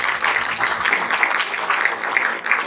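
A church congregation at a Sunday general meeting claps together in sustained, dense applause, fairly loud and even throughout with no break.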